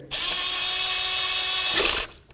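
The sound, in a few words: tightening Honda Accord valve cover nuts in sequence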